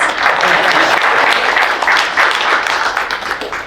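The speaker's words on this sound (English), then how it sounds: "Clap, please." A room of attendees at an association gathering claps loudly and steadily, a dense wash of hands close by with no voices over it.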